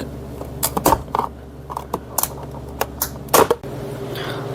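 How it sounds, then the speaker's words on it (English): Plastic trim pried off a 2015 Ford F150 door panel, a series of sharp irregular clicks and snaps close up, ending in a louder cluster of pops, with no talking. "I'm gonna remove the panel. I'm gonna start with this plastic."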